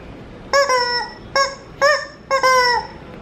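A squeaky chicken dog toy honks four times in quick, uneven squeezes, loud and close, each a bright nasal squawk with brief pauses between.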